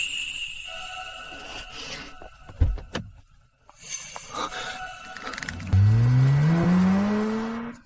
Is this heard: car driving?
yes